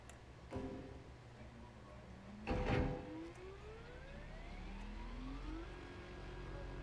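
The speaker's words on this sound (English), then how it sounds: "You hear the dust buster?" A dust buster machine runs in the video game Scrap Mechanic. Its engine revs with rising, siren-like whining sweeps and two sharp clunks, all fairly quiet.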